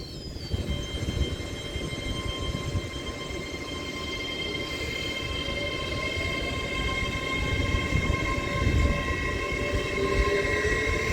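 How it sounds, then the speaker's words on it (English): An LNER class 801 Azuma train pulls out of Wakefield Westgate station on the Leeds branch of the East Coast Main Line. A loud steady rumble with whining traction tones slowly builds as it departs, and nobody speaks. "801205's off and away out of Wakefield Westgate now with the 1535 LNER Zuma service"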